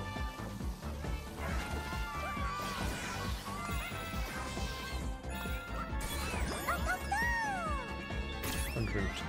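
Objects being smashed in the Astro Bot video game, a busy run of crashing and breaking impacts over game music and effects, with a voice briefly talking.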